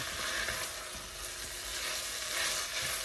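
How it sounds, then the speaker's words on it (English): African peanut soup base sizzling in a pot as it is stirred until browned, a soft continuous frying hiss with no talk. "keep stirring this until I get a brown color"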